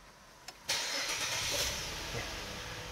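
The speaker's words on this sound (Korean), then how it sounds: "6기통 엔진 사운드 들어보겠습니다." A Renault Samsung SM7 Nova's V6 VQ engine, with 141,245 km, turns over after a short click, then settles into a steady, fairly loud running hum that stays even and close.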